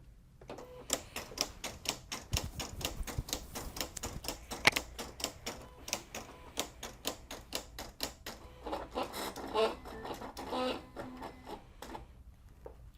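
A Silhouette CAMEO running a test cut on Siser metal heat transfer vinyl gives a steady stream of rapid mechanical clicks and whirring passes, busy and close throughout, with no voices.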